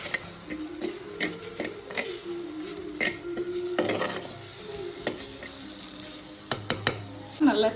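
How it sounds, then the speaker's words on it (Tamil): Chili powder sautéing in hot oil for a fish curry, steady sizzle with spoon scrapes and clinks against the pot, some strokes sharper and louder toward the end. "நம்ம மிளகாய் பொடி நல்லா அந்த எண்ணெயில் வதங்கி அந்த ரா ஸ்மெல் போகிற வரைக்கும் நல்லா வதக்கி கொடுக்கணும்"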